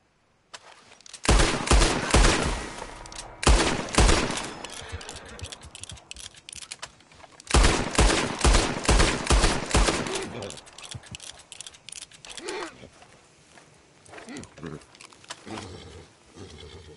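Two rapid bursts of gunfire from the Western video game Red Dead Redemption 2, each a dense cluster of loud cracking shots lasting about two to three seconds, separated by quieter game ambience.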